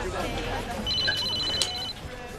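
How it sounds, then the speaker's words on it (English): A telephone rings with a steady electronic trill, clear and fairly close, while a low crowd murmur and voices carry on around it in a busy indoor room. "Your phone's ringing."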